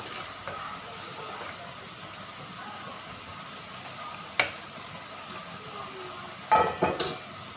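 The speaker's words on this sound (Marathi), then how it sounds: "थोडा फ्राय होऊ देऊया आणि मग नंतर थोड्या वेळाने टाकूया। फ्राय होत आहे छान।" Mushroom bhaji frying in a pan with a steady low sizzle throughout, broken by a spatula knock partway and a few clinks of the spoon against the pan near the end.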